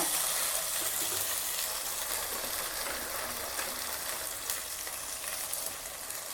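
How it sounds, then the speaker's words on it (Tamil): Chopped tomatoes sautéing in a pan with onion and garlic for a ridge gourd peel chutney, a steady close sizzle and crackle with occasional stirring, no voices. "தக்காளி நல்லா வதங்கட்டும்."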